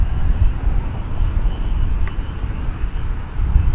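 An airplane roars at DFW Airport during a night departure from runway 18 Left, a broad, steady rumble with wind buffeting the microphone and no talk.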